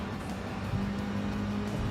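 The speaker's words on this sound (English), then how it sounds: "We have a car tuned up and are just like powering past ridiculous cars with a ridiculous tune-up." Tuned race car engine in Gran Turismo 7, a steady, close, loud engine drone holding one pitch for a couple of seconds with a faint tire hiss underneath.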